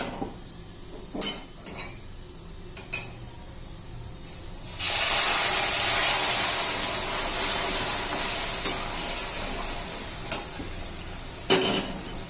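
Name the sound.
sugar syrup poured into roasted semolina, sizzling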